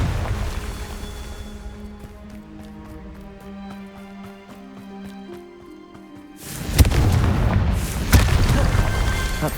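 A Confringo blasting spell in the Hogwarts Legacy video game, a sudden deep boom that bursts in after a quieter stretch of ambient music and then rumbles on loudly for several seconds.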